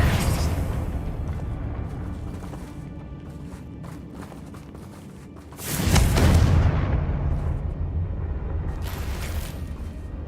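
A Confringo spell in Hogwarts Legacy blasting a bridge: after a stretch of rumbling ambience, a sudden loud explosion bursts out with a heavy low roar that lingers and settles into debris noise.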